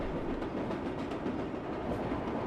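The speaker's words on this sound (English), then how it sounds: "it's got a very distinct noise, like that noise you hear, the clickety clackety" A subway train in the World of Subways 4 simulator rumbles along with a steady, dense rolling noise and faint rhythmic clickety-clack, with no talk over it.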